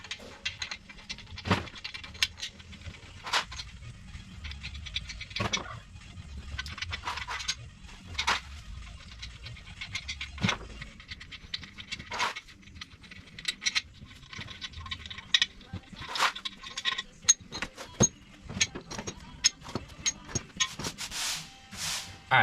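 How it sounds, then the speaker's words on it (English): Bearing caps come off a Dodge 318 engine block, giving sharp metallic clicks and clunks at irregular intervals. Quieter rubbing and handling noises fill the gaps, all close by. "let's pull these bearing caps off, or at least the main ones, and lube them up"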